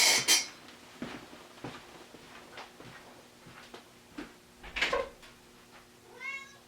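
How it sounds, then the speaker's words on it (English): A pet cat meows several times indoors, short separate calls spread across a few seconds, fairly close, with a longer wavering meow near the end and no talk. "can you guys hear my cat?"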